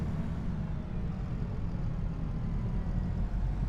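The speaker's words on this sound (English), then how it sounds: "And this is a fine tractor, I must say." Fendt tractor engine running steadily while driving out to a mowing field, a continuous low rumbling drone that stays close and even throughout with no talk.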